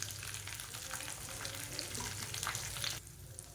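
Curry leaves, garlic cloves and asafoetida frying in oil in a pan for carrot chutney, a dense continuous sizzle close by that drops slightly quieter near the end.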